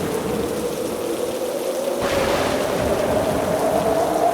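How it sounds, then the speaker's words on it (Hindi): Wind rises and heavy rain begins pouring in an animated village story, a steady broadband wash that thickens around two seconds in, with a low rumble of thunder underneath and no voices. "अचानक तेज हवाएं चलने लगी और बिजली की गड़गड़ाहट के साथ बारिश शुरू हो गई।"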